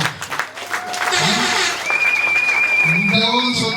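Members clap at a cooperative's general assembly for CAMEC Inkisi, a steady patter of applause running beneath someone speaking into a microphone.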